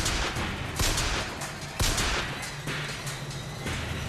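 Rapid bursts of gunfire in the video game BioShock Infinite, sharp repeated shots with a few louder cracks standing out, continuous and close, with no talk over it.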